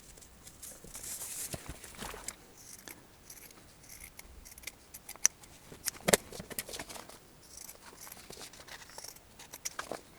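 Scissors cut through fabric with a tape-backed paper pattern attached, making a series of crisp, irregular snips and rustles close by, with quiet pauses between bursts and no talking.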